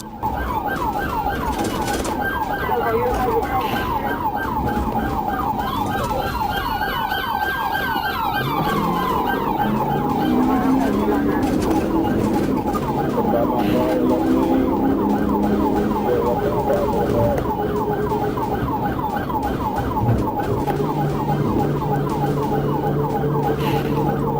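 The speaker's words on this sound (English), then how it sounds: "After lights and sirens were activated, the driver fled" A police car siren wails continuously in a fast repeating yelp, loud and close, with vehicle noise and a shifting tone layered underneath during a high-speed chase.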